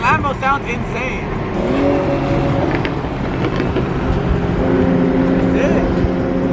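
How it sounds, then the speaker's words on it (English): A Lamborghini engine roars and revs while driving alongside Nissan GT-Rs, loud and close with shifting pitch, mixed with wind and road noise while people talk excitedly over it. "his Lambo sounds insane."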